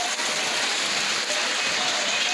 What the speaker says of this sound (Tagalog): Umuulan pa rin.